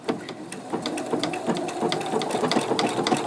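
A domestic sewing machine stitching an appliqué edge along fabric: a steady, fast mechanical whirring and clattering of the needle, close and fairly loud, continuous throughout without any speech.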